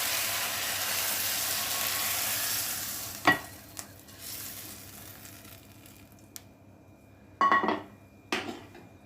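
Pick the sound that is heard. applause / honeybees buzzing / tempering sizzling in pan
tempering sizzling in pan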